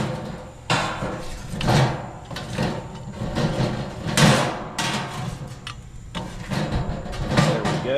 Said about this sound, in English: Included is this pretty cool fire poker, log mover, whatever you want to call it, and I'm going to use it right now